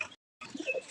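Fancy Madras pigeons calling just after a female is released, a few soft, faint coos split by a brief silence, with no talking.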